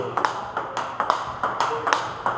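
A ball is struck repeatedly, about eight sharp, crisp pings in a fairly regular rhythm, each hit close and bright with a short ring, and faint background voices.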